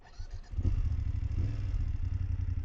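BMW F750GS motorcycle exhaust note, a close, low, steady burble that swells in as the bike pulls away and holds for a few seconds, with no talking.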